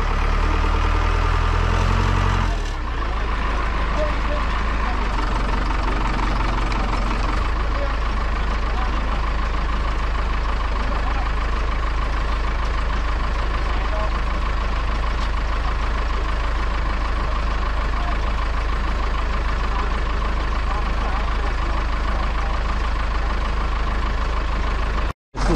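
A forklift engine idles and hums steadily as its hydraulics strain to lift a snow plow stuck in deep snow, a loud continuous drone with a brief shift in tone early on.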